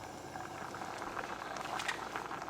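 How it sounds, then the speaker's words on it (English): Bear Creek creamy chicken pasta mix simmering on medium heat in a pot, giving a steady, soft bubbling and popping that stays fairly faint and even throughout, with no talking. "Stir it occasionally while it's bubbling so that nothing sticks to the bottom."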